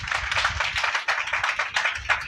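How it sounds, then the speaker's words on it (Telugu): Church audience at a Christmas gathering claps hands together in a fast, steady rhythm, a dense near burst of applause-like clapping with no talk over it. "చప్పట్లు కొట్టండి."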